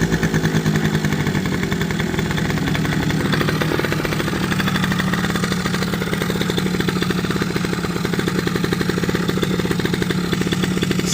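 An Eaton Viper 70cc two-stroke engine, probably running a little rich, buzzes loud and close at a steady rough idle with a rapid continuous putter and no speech.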